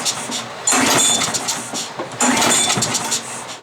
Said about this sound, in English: I sprayed a little bit more in there to try and start it again